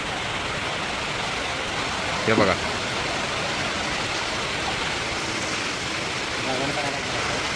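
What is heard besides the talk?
heavy rain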